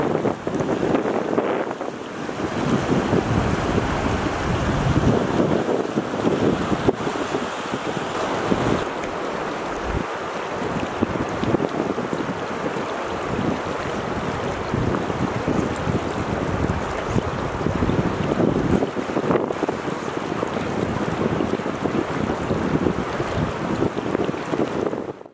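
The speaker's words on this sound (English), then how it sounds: "very fast-moving water." Very fast-moving water of the Madison River in Montana rushes steadily and loudly for the whole stretch, a dense broadband roar with wind buffeting the microphone and no voices.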